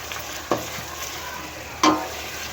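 Masala with tamarind fries in a pan for whole masoor dal, a gentle continuous sizzle with two distinct spoon scrapes against the metal, heard up close.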